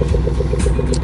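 A 2021 Range Rover Sport SVR Evergreen Edition's engine and exhaust burble close by in a rapid, regular pulsing throb, with a few brief clattery bursts on top.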